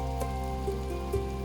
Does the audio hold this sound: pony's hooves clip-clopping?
no